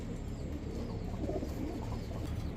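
Royal teddy pigeons cooing in a loft, a continuous low, throaty burbling close by with no talk over it.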